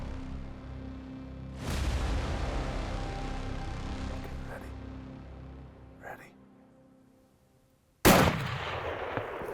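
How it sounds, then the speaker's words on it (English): A hunting rifle fired at a broadside bull elk about 307 yards away in New Mexico gives a sharp report that rolls into a long fading echo, and a second loud blast comes near the end. "he was broadside and presented me with the perfect shot"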